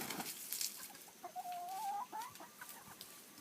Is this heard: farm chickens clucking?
yes